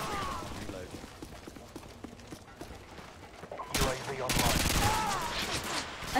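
Gunfire in Modern Warfare 2, a muffled stream of shots with a brief louder burst of firing near the end, under a busy game mix and talk.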